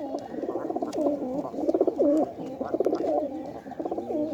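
Close pigeons cooing in repeated soft, throaty bursts, one call after another, from a male and a female pigeon, against a quiet background with no talking.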